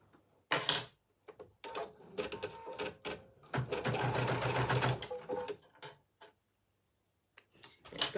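An embroidery machine stitches the quilting on an in-the-hoop heart oven mitt, its rapid needle ticking coming in bursts and stops, close and moderately loud, with a few quiet gaps.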